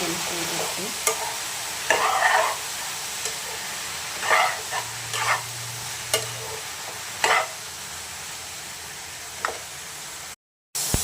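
A spatula stirs ridge gourd and moong dal curry in a pan over a low sizzle, with scattered scraping strokes and clinks spread irregularly across the stretch and one brief silent gap near the end.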